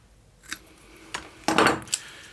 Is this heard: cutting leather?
yes